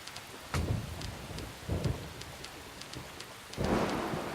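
Steady rain patters while three deep rumbles of thunder roll in at intervals, the last one loudest, with no voices, in the video game Deadly Premonition: The Director's Cut.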